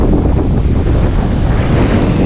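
Waves and strong wind hit Manila Bay's Dolomite Beach after a monsoon, a loud, constant rush of surf with heavy wind buffeting the microphone throughout.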